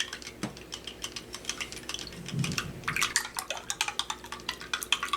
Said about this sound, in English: Now you want to stir this till it's dissolved, folks.